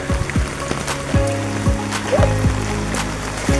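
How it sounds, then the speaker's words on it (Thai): Steady patter of rain hitting a surface nearby on a flooded street, with scattered splashy drops and a low watery rumble underneath. "ตอนนี้ฟ้าฝนก็ยังรินอยู่นะครับ ยังยังไม่หยุดนะ"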